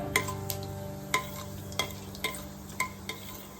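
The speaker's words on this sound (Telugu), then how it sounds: "అండ్ 1 స్పూన్ మెంతులు వేసి ఫ్రై చేయాలి" A spoonful of fenugreek seeds fries quietly in a pan under a soft, even sizzle, punctuated by about six light spoon taps at a regular, unhurried pace.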